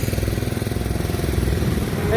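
A tractor engine chugs with a fast, steady, loud thump as it passes on a village road, close and continuous, with voices faintly under it.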